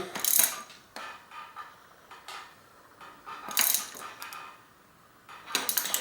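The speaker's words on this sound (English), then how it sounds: "When I start feeling resistance, then I can use my wrench. And then tighten that in." A wrench tightens a bolt on a RockShox Quadra 21R suspension fork, giving scattered bright metallic clinks and short ratcheting rasps, close and fairly quiet, in irregular bursts with no talk.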